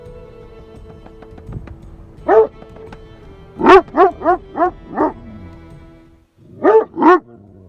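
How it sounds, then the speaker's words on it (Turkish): Kangal dogs on a farm bark in short clusters, a few loud barks close by, separated by quieter pauses with faint background sound. "O yüzden köpekler durmadan avlıyor."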